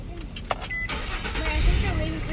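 A truck engine turns over and catches inside the cab, then rumbles steadily as it pulls away. Some brief talk and handling noise come first.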